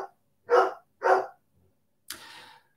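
A dog barks twice in quick succession, sharp and close against silence, then gives a softer, breathier yelp a moment later, with no talking over it.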